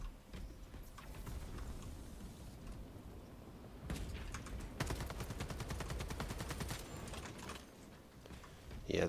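A one-handed bolt carbine fires in Space Marine 2 PvP combat, bursts of rapid rattling shots that intensify midway into a dense fast volley, with a voice talking quietly over the clatter.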